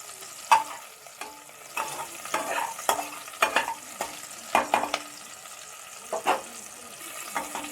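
Food frying in a pan while being stirred, giving a soft crackling sizzle under repeated sharp scraping and tapping of a utensil at an uneven pace, fairly close and moderately quiet.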